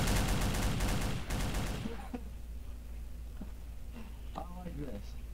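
Rifles fire in a video game roleplay as a rapid string of loud, overlapping shots that cut off abruptly, leaving a quieter stretch of light clicks and faint voices.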